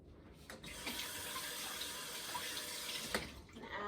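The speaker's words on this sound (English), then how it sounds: "add just a little touch of water into our jar" Tap water running steadily into a compost jar for a kindergarten activity, a close, continuous splashing hiss with small clicks at the start and near the end, no talk.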